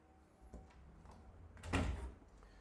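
In a newly renovated flat, a glass sliding balcony door rolls along its track, with a light knock early on and then a louder rumbling slide that peaks and fades in a quiet room.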